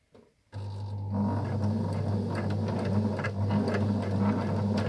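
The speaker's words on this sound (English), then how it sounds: "just going to take your time on the sewing machine there" Steady mechanical whirring of a sewing machine stitching a shamrock pin cushion, running continuously, close by, with a constant hum and faint rhythmic ticking throughout.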